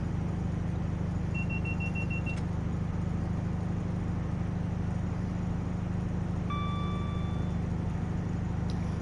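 A train accelerating at full throttle in Train Sim World 5, a steady low motor drone holding throughout, with two brief electronic beep tones sounding over it.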